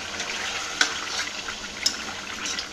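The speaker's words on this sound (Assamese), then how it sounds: "এইফালে মাংস ফ্ৰাই হৈয়ে আছে, তেল ওলায়ে আছে" Meat fries in plenty of oil in a home kitchen with a steady, moderately loud sizzle. Two brief metallic clinks sound over it, and there is no talking.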